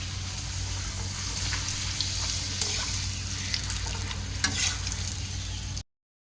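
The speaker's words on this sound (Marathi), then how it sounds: "आता मी पापड इथे तळून घेत आहे" Papad frying in hot oil during preparation of festival offerings, a steady close sizzle and bubbling hiss with faint stirring clinks, continuous and alone without talk until it cuts off near the end.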